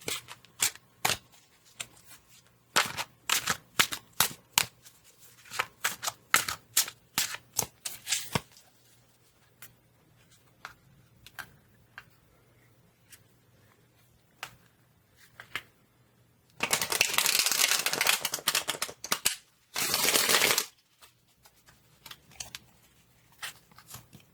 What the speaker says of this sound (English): And I will pull a couple of cards and we'll do a 3-card reading.